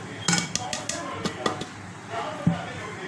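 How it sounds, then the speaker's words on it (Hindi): A spoon stirs chocolate brownie batter in a bowl, clinking and scraping against the sides in quick, uneven strokes close by. A voice talks faintly underneath. "और अच्छी तरह मिक्स कीजिएगा।"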